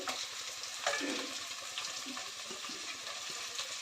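Tomato dropped onto onions frying in oil, a continuous close sizzle with a few soft stirring scrapes over it.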